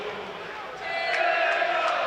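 Football crowd at a Burnley v Chelsea match roaring and chanting in support of Burnley ahead of a free kick, a sustained stadium din that swells louder midway, with faint voices beneath.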